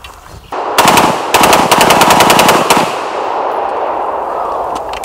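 An AK-74 Krinkov short-barreled rifle fires on full auto in several rapid bursts, very loud and close, with sharp cracking reports followed by a lingering outdoor echo and ringing after the last burst.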